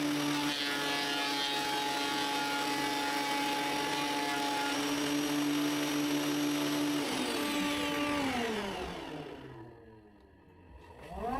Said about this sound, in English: I'll start by planing the spruce